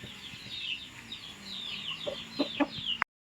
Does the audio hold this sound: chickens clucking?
yes